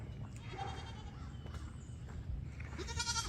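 Real goats on a farm bleating in short calls, one near the start and another burst toward the end, over steady low rumble and background noise.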